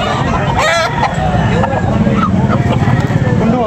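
Roosters crow repeatedly at a busy chicken market in Tabunok, several calls overlapping at close range over a steady crowd hubbub and nearby chatter.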